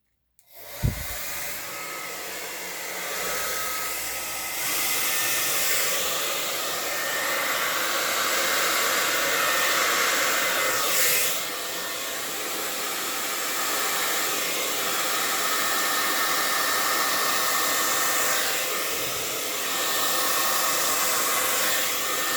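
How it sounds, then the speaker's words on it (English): A hair dryer starts with a click and blows continuously at close range, a loud steady whir with slight shifts in pitch. "Blow dryer alert."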